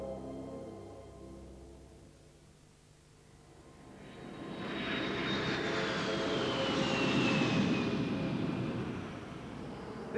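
A military jet aircraft engine near Nellis Air Force Base swells from a quieter start into a loud, sustained roar with a rising whine, passing fairly close and holding strong to the end.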